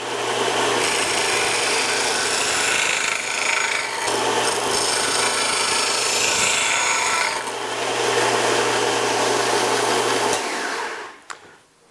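A small household disc and belt sander grinds a rounded wooden piece, giving a loud continuous whirring rasp that swells and eases as the wood is pressed on, then spins down at the end.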